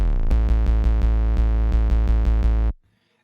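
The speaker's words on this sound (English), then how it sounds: "on this one I've distorted it using the Fruity Fast distortion twice" A sub-bass synth distorted twice with Fruity Fast Distortion in a dance music production plays a heavy, buzzing, gritty bass line in rhythmic repeated notes, loud and alone, stopping abruptly.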